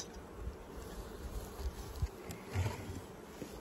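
Honey bees buzzing around hives during a honey harvest, a steady low drone with a few louder close passes and soft knocks, fairly faint, no talk.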